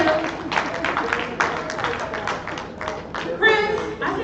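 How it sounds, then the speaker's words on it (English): Audience applause at a music and fashion showcase, a steady wash of clapping from a crowd with voices mixed in, holding through the stretch and swelling near the end. "We want to give a huge round of applause to him."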